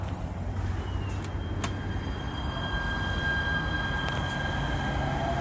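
A Schindler 400A elevator moves through its shaft in a station parking garage, giving a steady low mechanical rumble with faint high whines and a few brief clanks, heard from nearby.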